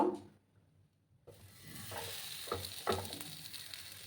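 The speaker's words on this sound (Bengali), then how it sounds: "গ্যাসের আঁচটাকে কমিয়ে আমি এই পরোটাগুলো ভেজে নেব" After a brief near-silence, a steady oily sizzle rises as a paratha fries in a little oil in a hot pan over a low gas flame, with a few soft scraping sounds.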